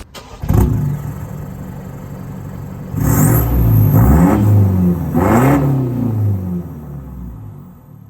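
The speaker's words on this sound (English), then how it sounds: "that's a new BT50 with the 3-inch exhaust" A new Mazda BT-50 with the 4JJ3 diesel, fitted with a 3-inch turbo-back exhaust and resonator, starts up, idles, then revs loudly three times in rising and falling surges before settling back to a deep idle.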